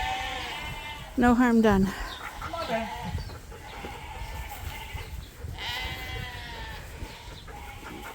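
Sheep and lambs bleat on a farm, one loud close wavering bleat followed by several fainter calls from the flock, with a person talking briefly over the animals.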